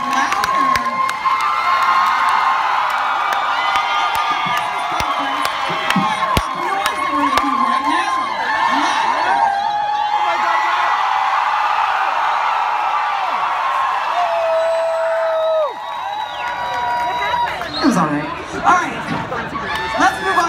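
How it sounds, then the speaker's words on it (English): A crowd at a fursuit dance competition in Atlanta cheers, whoops and claps loudly and continuously, with shouting and chatter mixed in and a brief lull near the end. "Give us a round of applause."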